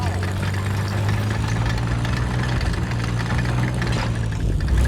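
Engine of a Comet I tank from War Thunder idles with a steady, loud low rumble and throb that runs throughout, with in-game clatter layered on top.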